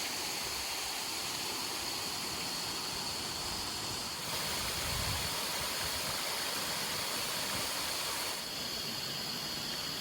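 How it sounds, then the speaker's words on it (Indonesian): Curug Aek Enim waterfall at Pulau Panggung, Semende Darat Laut, with gently flowing water making a continuous, even hiss of moderate loudness from a steady distance. "Aliran air yang tidak cukup deras tidak mengurangi pesona keindahan air terjun"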